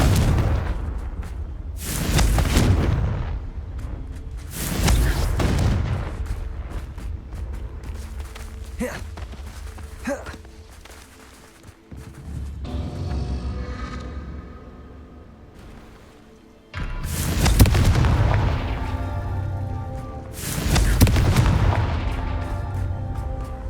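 Confringo spell blasts in Hogwarts Legacy, several heavy booming explosions with rumbling tails, loud and near, separated by quieter stretches of combat noise.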